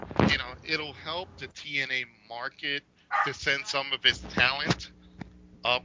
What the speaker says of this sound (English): Excuse me, that's my dog. He's trying to bite me.